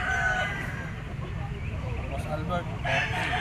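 A yellow-legged Bachoy Gray bull stag rooster crows, its call rising near the start and again near the end, over a noisy background with people talking.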